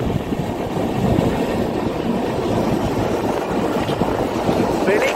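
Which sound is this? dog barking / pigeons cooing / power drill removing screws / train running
train running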